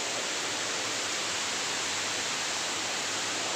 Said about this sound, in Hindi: आवाज़ से पता चल रहा होगा बारिश की